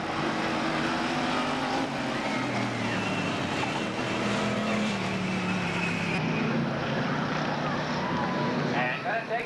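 Race cars lapping the Saugus Speedway figure-eight track during a 1993 heat race: a continuous, loud, blended engine roar with wind noise, over which an announcer calls the race.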